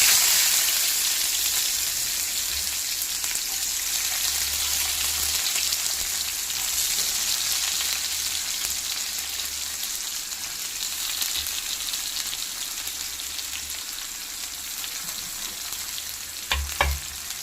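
Chopped onion and garlic fry in hot oil with mustard seeds, giving a loud, dense sizzle that holds steady throughout at close range, with a few brief clinks near the end and no talking.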